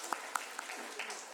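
A church congregation at a Sunday worship service gives a few scattered, sharp claps, sparse and brief rather than a full ovation.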